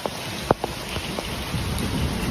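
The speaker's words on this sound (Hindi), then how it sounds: "देख लो ये ओला गिरना शुरू हो गया" Heavy rain pours steadily outside a railway station, with a few sharp hard impacts standing out early, hailstones striking a surface amid the downpour.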